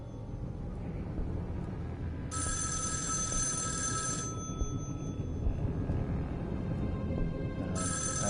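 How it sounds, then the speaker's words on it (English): A telephone rings in the interactive movie game Erica, sounding in two bursts of electronic trilling over a low, steady background rumble, with no speech. "Oh, phone rings again."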